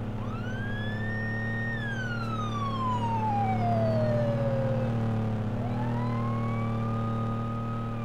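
A police car siren in the video game Arma 3 wails loudly and continuously, its pitch sweeping up and down in long slow rises and falls over a low engine drone.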